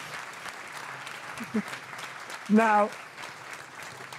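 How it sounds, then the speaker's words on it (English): Applause from a live audience at a car talk show carries as a steady wash of clapping in the background, while someone speaks briefly over it. "can we get that an applause?"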